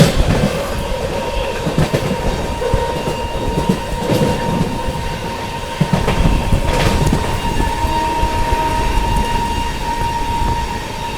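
Amrit Bharat Express rolls through Panki Dham station without stopping in heavy rain, a continuous loud rail rumble with rhythmic clickety-clack over joints and a steady whine, heard from on board.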